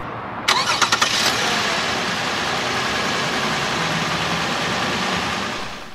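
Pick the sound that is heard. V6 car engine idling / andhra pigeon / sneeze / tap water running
V6 car engine idling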